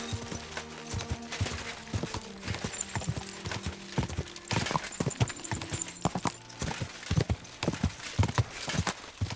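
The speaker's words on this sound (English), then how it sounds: "I think I heard another horse." Rapid hoofbeats clatter in an irregular galloping rhythm in the video game Kingdom Come: Deliverance II, loud and close, with a brief whinny and game sound effects layered over them.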